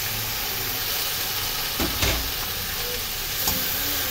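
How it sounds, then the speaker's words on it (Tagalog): Garlic, onion and tomato sauté with mushrooms in a hot pan, giving a loud, steady sizzle throughout with brief scraping stirs near the middle and end. "gigisa ko lang yan siya. Bawang, sibuyas, kamatis"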